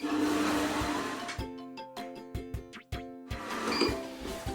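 An electric mixer beats cake batter of flour and other ingredients, whirring steadily at first and then running in short, separate bursts with pauses between them.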